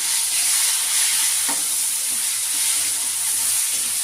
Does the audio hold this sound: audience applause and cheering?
no